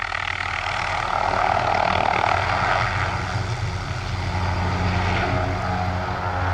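Rare helicopter that flies without a tail rotor passing overhead, a loud, steady broadband engine and rotor roar filling the whole stretch without speech.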